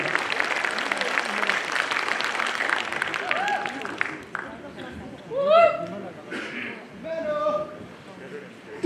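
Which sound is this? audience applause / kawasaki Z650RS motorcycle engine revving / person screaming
audience applause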